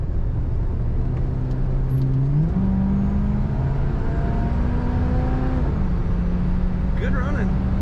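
A 1978 Chevrolet Camaro engine runs steadily while driving on the road, a continuous close drone with gear-like pitch steps, under loud road and cabin noise with a voice talking.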